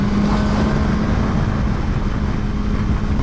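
BMW HP4 Race track motorcycle, a stripped race bike with no headlights or fans, heard while riding: a loud, steady engine drone with a constant tonal hum and rushing wind noise throughout.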